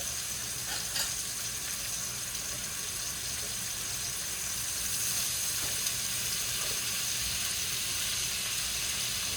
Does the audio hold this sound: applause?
no